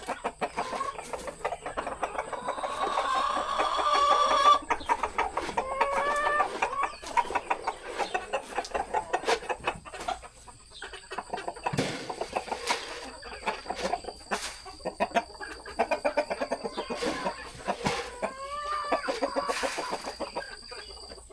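Several roosters cluck steadily up close, with an occasional crow breaking through, over a faint constant high-pitched hum.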